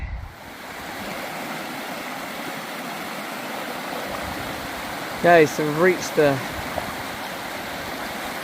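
Telford Burn River on the Te Araroa trail flowing in a steady, close broadband rush that fills the whole clip, with someone briefly speaking over it near the end.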